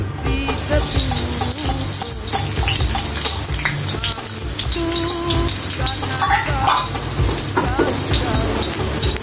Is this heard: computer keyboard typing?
no